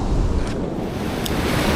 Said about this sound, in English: they're big waves